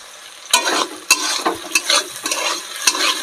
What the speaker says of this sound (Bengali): এই কচুরলতিটা কিন্তু পুরো মানে একদম শুকিয়ে ফেলবো, পুরো ভাজা ভাজা হবে